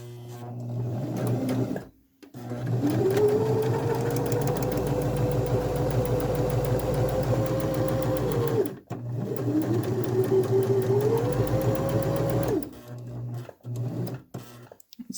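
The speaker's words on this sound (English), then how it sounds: "stitch it all the way towards the bottom, and with the locking stitch" A sewing machine runs a locking stitch along a pillowcase in two long, steady bursts with a short pause between them, humming close and loud with a rapid needle rhythm.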